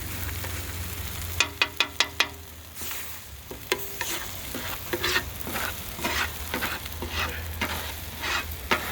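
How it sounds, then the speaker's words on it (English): Chilies stir-fried with belacan on a tawa while sambal belacan chilli paste is made: a quick run of sharp metallic spatula scrapes and clacks, then steady stirring strokes over a soft, continuous sizzle. "So let's mix it up with the rest of the chilies"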